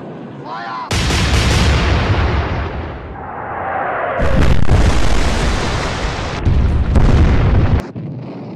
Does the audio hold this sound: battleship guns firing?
yes